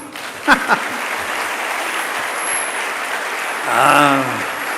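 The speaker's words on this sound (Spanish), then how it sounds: "Dele otro aplauso al Señor" Church congregation applauding during a sermon, an even spread of clapping with a couple of sharp claps near the start and a voice briefly rising over it toward the end.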